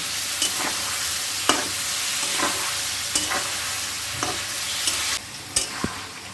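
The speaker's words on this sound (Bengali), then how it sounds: "এবার চিংড়ি মাছটা দিয়ে দিচ্ছি গোটা চারি কাঁচা লঙ্কা চিড়ে দিয়েছি ভালো করে কষে নেব" Shrimp with slit green chillies stir-fry in a pan for a Bengali shrimp, potato and papaya curry, a steady loud sizzle broken by repeated scraping stirs of the spatula, with no talk.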